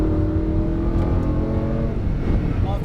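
A Lamborghini Huracán accelerates on a race track, its engine droning loud and close with a steadily rising pitch before easing off near the end, with a voice speaking under the engine.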